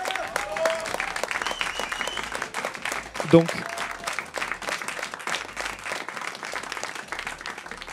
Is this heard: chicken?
no